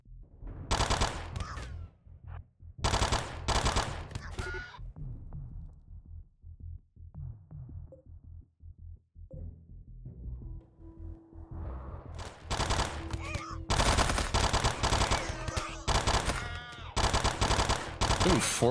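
Video game gunfire in RimWorld's Gravship scenario: dense bursts of automatic fire open the stretch, drop away to a quieter lull, then return as a loud, sustained fusillade near the end, with some talk mixed in.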